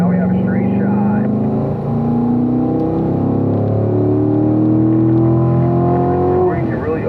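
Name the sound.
car accelerating on a racetrack straight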